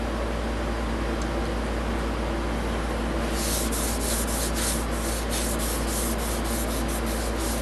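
A hand rubs finish into a turquoise platter with a steady, close scrubbing friction. The strokes become brisker and rhythmic partway through over a constant background hiss.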